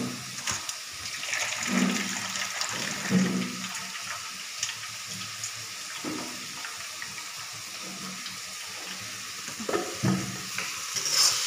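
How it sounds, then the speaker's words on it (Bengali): Boiled chow mein noodles tipped from a pot into a strainer, water splashing and draining in a steady wet pour with soft clatters, fairly faint and close, no voices. "এখানে চাউচাউ সিদ্ধ করেছি, এটা এমন করে ঢেলে জলটা ছেঁকে নেব"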